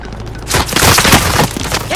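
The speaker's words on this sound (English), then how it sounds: "Taking fire over here!" Gunfire erupts in the Call of Duty Warzone battle on Rebirth Island: after a half-second lull, a dense, loud, close burst of cracking shots and booms rolls on to the end.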